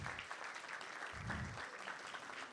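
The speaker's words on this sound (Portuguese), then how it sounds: "Uma salva de palmas." Audience applause at a sales talk event, steady dense clapping throughout, swelling slightly in the middle, with a few voices faintly mixed in.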